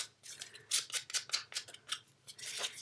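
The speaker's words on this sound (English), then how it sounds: "take each piece of paper and just rough up the bottom, even if that means it rips" Scissors scrape and rough up the bottom edge of pieces of paper, a quick run of close, crisp rasping strokes in an uneven rhythm with short pauses between them.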